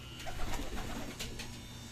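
Soft coos of racing pigeons returning to their loft rise and fall over a low rumble of background noise, with faint fluttering sounds in the mix.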